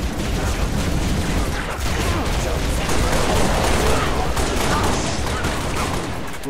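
Dense, sustained gunfire and explosions rattle through a Halo Reach battle, a loud continuous fusillade with mechanical clatter and faint voices mixed underneath.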